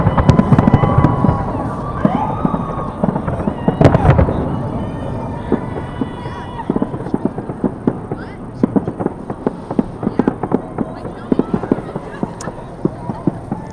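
New Year's midnight fireworks burst outdoors during a plein air painting outing, a dense crackle and thumping blasts early on giving way to a steady run of sharp pops and bangs, with people cheering and talking in the background.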